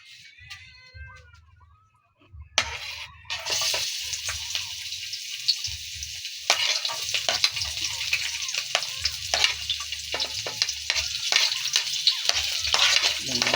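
Onion, garlic and tomato sizzling in a pan while being stirred, a bright hiss with scraping and clicking of the utensil, close and steady after a quiet start.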